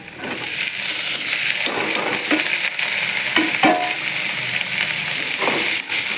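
Finely chopped, split green beans go into a hot pan for a South Indian beans poriyal and are stir-fried, giving a loud, steady sizzle broken by scraping stirs from a spatula.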